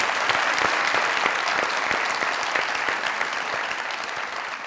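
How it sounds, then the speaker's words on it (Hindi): Studio audience on a comedy talk show breaks into loud, sustained applause, a thick wash of clapping from a full crowd that tapers slightly toward the end. "जरा जोरदार तालियां बजाएंगे।"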